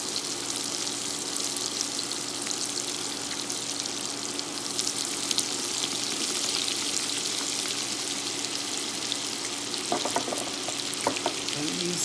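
Chicken wings frying in butter in a very hot skillet, a dense loud crackling sizzle throughout with a few clinks and spatula touches near the end.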